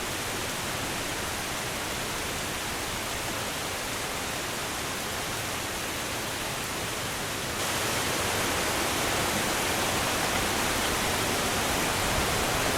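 Waterfall swollen after heavy rain in the Lake District, heard as a steady, dense broadband roar that grows louder partway through as the water comes nearer, with no voices.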